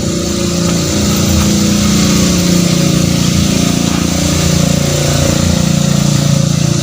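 A compost-making machine runs steadily at a composting site in Bandung, its engine giving a continuous loud drone with a rough, rattling low end that holds evenly throughout.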